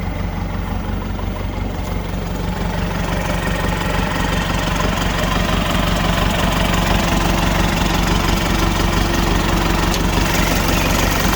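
A Toyota-engined mini skidder buggy runs steadily close by, a continuous loud mechanical drone with a knocking, idling rhythm that holds even throughout.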